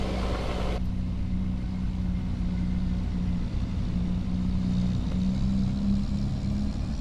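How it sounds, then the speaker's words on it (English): A loud truck engine runs steadily while driving, a constant low rumble with a droning hum filling the whole stretch, close and unbroken. "This truck is way too loud."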